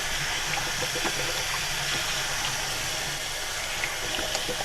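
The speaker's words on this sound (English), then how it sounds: "we're just going to rinse our hands off here" Hands rinsed under a steadily running kitchen tap while cooking an easy holiday meal, a continuous loud splashing hiss of water with no pauses.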